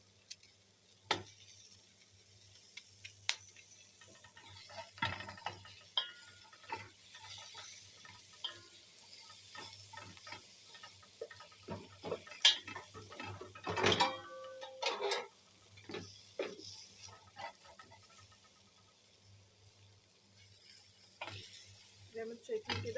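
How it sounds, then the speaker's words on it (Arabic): Camel trotters go into a pan of onion and spices to fry while being stirred, giving a quiet, patchy sizzle broken by scattered clicks and scrapes of the spoon against the pan. "وهنزل عليها بالكوارع على طول."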